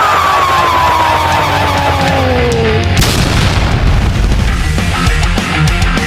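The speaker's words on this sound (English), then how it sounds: "Why we just finding out about that big old cannon?" A big cannon in a shooting video game fires with a loud, heavy boom, set over a continuous dense game soundscape with a descending whistle-like tone just before the blast.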